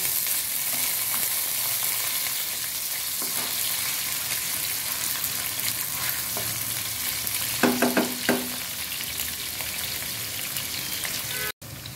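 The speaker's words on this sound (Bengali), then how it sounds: "তেল গরম হয়ে গেলে দিয়ে দিচ্ছি পেঁয়াজ কুচি। হালকা করে ভেজে নেব।" Chopped onions fry in hot oil with a strong continuous sizzle, and a few clustered spatula clinks and scrapes come through in the middle.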